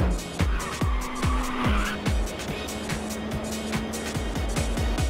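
A race car drifting in the PS5 game Ridge Racers 2, loud engine revs rising and dropping through repeated gear changes under a long, sustained tire squeal, close and continuous.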